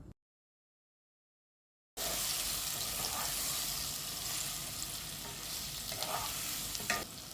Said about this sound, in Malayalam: ഇനി ഈ സെയിം പാനിലോട്ട് നമുക്ക് വീണ്ടും 1 ടേബിൾ സ്പൂണ് നെയ്യ് ആഡ് ചെയ്ത് കൊടുത്തതിന് ശേഷം നമുക്ക് ആ നേന്ത്രപ്പഴം ഉണ്ടല്ലോ അതുകൂടെ ഒന്ന് വരട്ടിയെടുക്കാം